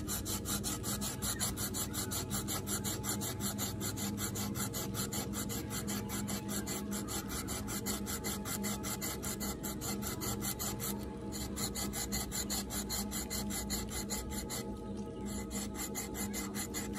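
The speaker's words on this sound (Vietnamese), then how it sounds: "Em sẽ cưa trực tiếp ở cái thân cây này." A hand jigsaw with an SK5 steel blade saws into a tree trunk with fast, even rasping strokes that run continuously for about seventeen seconds, loud and close, pausing only briefly twice; no one talks.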